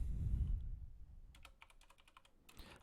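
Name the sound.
typing a command on a computer keyboard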